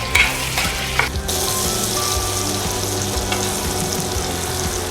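Mushrooms and walnuts frying in browning butter, a loud, dense and continuous sizzle with a couple of stirring knocks near the start.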